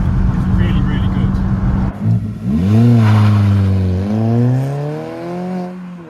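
Fiat Panda 100HP engine revving, a throaty tone climbing and falling in pitch over several seconds after a burst of rough road noise, fairly close and loud.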